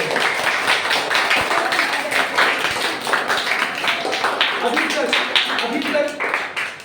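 The studio audience of Kaun Banega Crorepati applauds loudly, a dense, steady burst of clapping that carries on through the whole stretch with voices mixed in.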